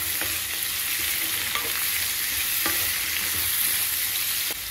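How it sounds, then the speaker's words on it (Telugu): Chopped onion pieces sizzling steadily in a hot pan for an Indian potato curry, a continuous close hiss and crackle with faint occasional stirring taps and no talking. "ఈ ఉల్లిపాయ ముక్కలు గోల్డెన్ బ్రౌన్ కలర్ వచ్చే వరకు వేయించుకోవాలండి."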